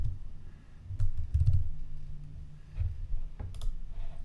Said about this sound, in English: again just typing his email address.